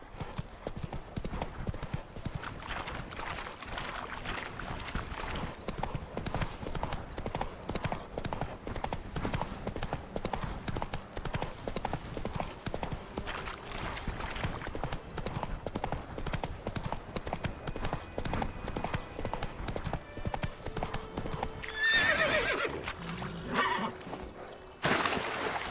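Roach the horse galloping in The Witcher 3, steady rapid clip-clop of hooves running continuously throughout at moderate level, with a brief neigh or other sounds near the end.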